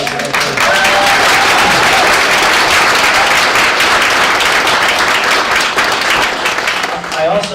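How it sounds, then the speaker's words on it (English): A crowd applauds at an International Women's Day event, sustained loud clapping that fills the room while a person speaks over it. "So, why don't you keep the applause going a little bit more?"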